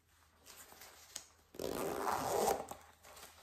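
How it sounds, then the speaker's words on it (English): A YKK zipper on a Castelli Estremo Gore-Tex cycling overshoe is pulled in a quick rasping stretch, preceded by faint rustling and small clicks, close and fairly quiet. "So we got the zipper here."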